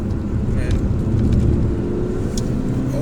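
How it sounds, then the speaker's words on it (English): An MG ZT drives along a road with faint turbo noise over a loud, continuous engine and road drone, and a thin rising whistle creeps in near the end. "A wee bit of turbo noise."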